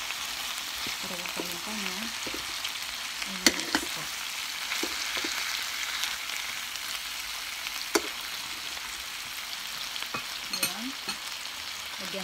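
Chicken and pork adobo in coconut milk sizzles steadily in a pan while being stirred, with scraping and occasional utensil knocks, and a voice speaks briefly over it.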